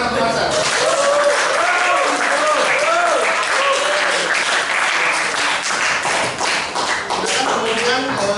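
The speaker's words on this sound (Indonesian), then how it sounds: "Tepuk tangan untuk Mas" A classroom of students claps for a classmate, a brisk round of applause with audible taps and a few thumps, close and loud, while overlapping voices rise through it.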